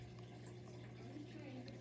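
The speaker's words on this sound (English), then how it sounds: "water filter going in the background" A small aquarium water filter runs steadily in the background, a constant low hum with a faint trickling wash over it and no other sounds.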